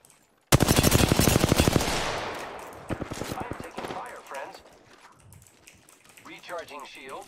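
An enemy squad in Apex Legends opens up with a loud, rapid burst of automatic fire, followed by scattered, fainter shots and a person talking over the later part.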